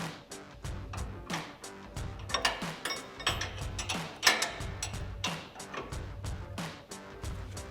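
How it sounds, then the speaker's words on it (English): A 19mm socket on a ratchet wrench loosens the bottom strut nut on a Toyota Tacoma during a suspension lift install, producing steady rapid ratcheting clicks, close and quiet, in a quick irregular rhythm with no voices. "And a 19mm socket, and get this nut removed."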